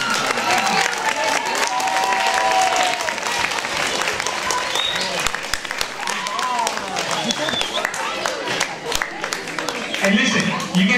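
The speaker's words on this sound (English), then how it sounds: "Let's give your teachers a great round of applause." Students at a welcoming ceremony give their teachers a sustained round of applause, loud crowd clapping mixed with some cheering and voices throughout.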